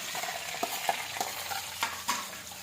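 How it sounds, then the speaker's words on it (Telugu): Onion pieces frying with curry leaves in a pan for a Telugu chicken fry, a soft steady sizzle with a few sharp scrapes of stirring spaced through it, close up and alone. "ఉల్లిపాయ ముక్కలు ఇలా వేసేసి బాగా వేపుకోవాలండి."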